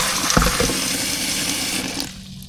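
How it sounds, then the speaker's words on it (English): Tap water gushing into a pot of oxtail being washed in a kitchen, a loud continuous rushing pour with a few splashy knocks, easing off near the end; no one speaks. "All right, so we're gonna add some more water to it."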